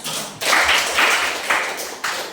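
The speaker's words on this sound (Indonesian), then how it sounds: "Oke, tepuk tangan untuk kita." A classroom of students clapping together in four or five sharp, rhythmic bursts, close and loud, each burst a short flurry of hand claps with brief pauses between.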